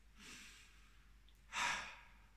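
A narrator's voice performs a big, calm breath for Little Miss Busy in a mindfulness bedtime story: a soft, airy inhale, a short pause, then a fuller, louder breathy exhale, close and alone.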